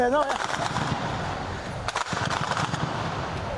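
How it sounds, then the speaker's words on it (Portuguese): Chaotic gunfire crackles in a noisy outdoor shootout involving police, with rapid bursts of shots over a constant roar and a few sharp cracks standing out. "Tiroteio"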